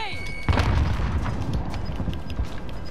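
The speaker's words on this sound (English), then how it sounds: "I'm throwing another. Throwing grenade!" In an online shooter game, a thrown grenade detonates with a heavy low boom about half a second in, followed by rumbling aftermath and scattered distant gunfire.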